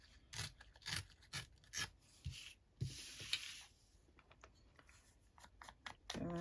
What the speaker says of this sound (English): We'll rip the top with this so that it matches.